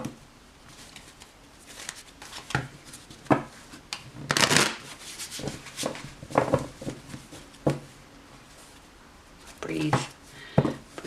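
A deck of tarot cards is shuffled by hand in short riffling bursts with soft taps and pauses between them. It is heard up close, and a person speaks quietly underneath.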